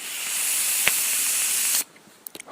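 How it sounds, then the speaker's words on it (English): A vape pen gives off a steady airy hiss as vapour is drawn for almost two seconds, close and moderately loud, ending abruptly, with a faint click midway and light taps afterwards. "I've got a vape pen."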